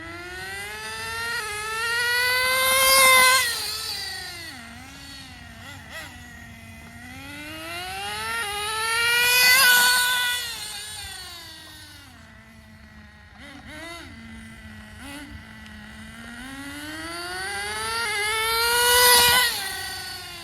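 A HotBodies Tornado radio-controlled Nissan car buzzes with a high electric whine that swells and fades three times as it laps past, pitch rising and falling with speed, with no talking.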